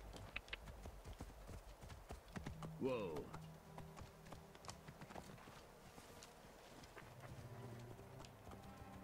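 Hooves clip-clop in a brisk, uneven rhythm, close by, in the video game Assassin's Creed Origins, with a brief voice and some scattered clicks mixed in.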